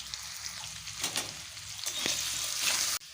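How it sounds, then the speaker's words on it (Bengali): Potatoes frying in hot oil in a pan, seasoned with salt and turmeric, giving a steady close sizzle with occasional stirring scrapes and bursts of spatter. "আলুগুলোকে ভালোভাবে ভেজে নেব।"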